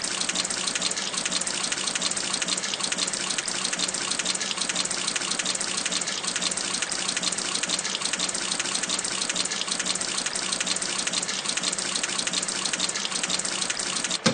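A water truck in a cartoon game sprays a continuous, even gush of water for the full stretch, with no pauses and no voices.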